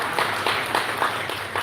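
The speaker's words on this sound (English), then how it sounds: "may we give her a round of applause?" Brief, moderately quiet audience applause at a World Kidney Day celebration in a hotel venue, scattered claps with a few louder bursts.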